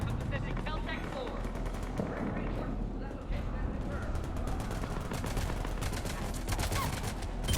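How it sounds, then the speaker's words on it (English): Dense, continuous gunfire in the sci-fi shooter Mass Effect 3, rapid automatic bursts and sharp cracks crowding together at high, steady loudness throughout, with voices mixed in. "Taking enemy fire from Pacific Caltech 4."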